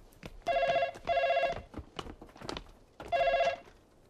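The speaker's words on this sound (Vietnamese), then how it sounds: "Tôi đi nghe điện thoại đi" A telephone in a law office rings in three short electronic bursts, the first two back to back and the third after a pause, with soft knocks and movement in between.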